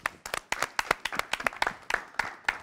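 A crowd applauds a rapper at a rap battle with sharp, distinct claps in a quick, uneven rhythm, close and fairly loud, with no talking over them.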